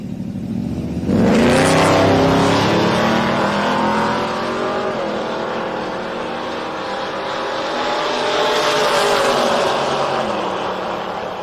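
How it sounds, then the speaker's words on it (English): Classic drag race cars roar down the racetrack at Sick Summer 2024, a loud engine blast building in at about one second and staying strong and steady throughout, with a second swell of revving later on. "Both the classics heading down the racetrack."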